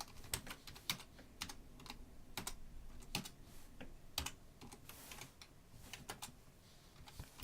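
Computer keyboard typing while entering code for a zombie survival game in Unity, with quick irregular keystrokes and short bursts and pauses, close and fairly quiet throughout.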